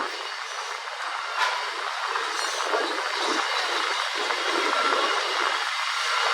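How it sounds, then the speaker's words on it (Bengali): Passenger train running just after leaving Barrackpore station, a steady broadband rumble and rushing hiss heard from inside the carriage, continuous with no clear voices. "আমাদের ট্রেন ছেড়ে দিল ব্যারাকপুর স্টেশন থেকে"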